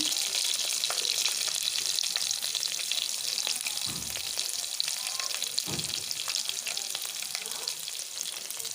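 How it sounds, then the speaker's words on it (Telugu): Sliced onions frying in oil with curry leaves in a pan for a leftover rice tempering dish, a steady close sizzle with occasional stirring scrapes, no talk. "మనం ముందుగా నిలువులా కట్ చేసి పెట్టుకున్న ఆనియన్ కూడా యాడ్ చేసుకోవాలి"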